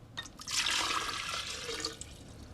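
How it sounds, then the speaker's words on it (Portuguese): Water pours into a glass bottle in a steady splashing gush lasting a couple of seconds, then tapers off to a thinner trickle near the end; close and fairly loud, with no speech. "Ele encheu uma garrafa de vidro com água."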